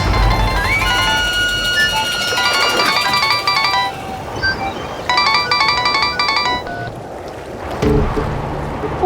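A melodic electronic ringtone plays loudly in repeated bursts, pausing briefly before resuming, then cuts off abruptly near the end.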